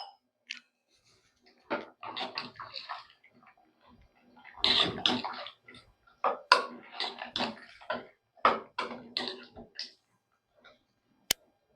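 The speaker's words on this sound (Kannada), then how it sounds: "ಮತ್ತೆ ನೀರು ಹಾಕ್ಕೊತಾ ಇದ್ದೀನಿ ಇನ್ನೊಂದು ಸ್ವಲ್ಪ ಸಾಂಬಾರಿಗೆ." Water is poured in intermittent splashy bursts into a pot of sambar on the stove, close and fairly quiet, with short pauses between pours.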